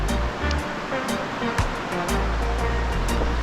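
Swollen river rushing hard during a rainstorm in Arouca, Portugal, a loud, steady roar of churning water heard up close, with no voices over it.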